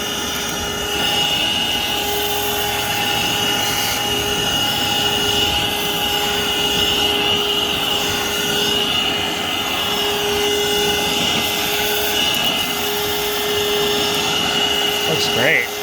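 Craftsman 20V cordless wet/dry vac running steadily with its accessory attached, a continuous whining motor drone with tonal hum at close range, unbroken for the whole stretch.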